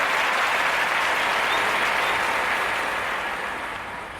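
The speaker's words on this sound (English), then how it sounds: "I had to give myself another round of applause myself, man, for this week." A sustained round of applause, a thick wash of clapping and crowd noise that stays loud and even before gradually fading toward the end, with no talking over it.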